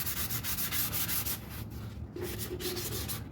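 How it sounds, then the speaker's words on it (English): Hand sanding of wood, a steady close abrasive rubbing that goes on with no break and grows briefly quieter near the middle. No one talks. "Sand it."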